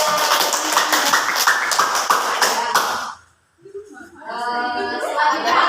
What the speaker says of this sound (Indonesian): Udah kita kasih aplaus untuk temannya.